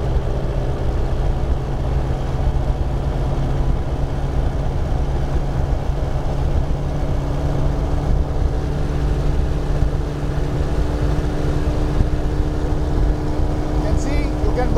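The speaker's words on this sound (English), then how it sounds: "I'm going to gradually increase the throttle and look for the RPM" Sinus 912 motor glider engine running steadily near full throttle during an inspection run-up: a loud, continuous droning propeller roar with an even hum throughout, and a voice speaking faintly beneath it.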